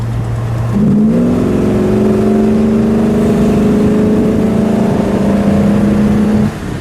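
A 1960 Plymouth Fury convertible's loud engine note steps up and holds a steady, rising drone as the car pulls away and drives off, then cuts off near the end.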